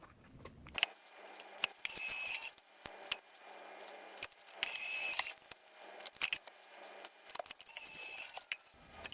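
A GO! fabric cutting machine cuts quilting fabric, with repeated mechanical cranking and whirring passes broken by clicks and small handling noises, close and fairly quiet.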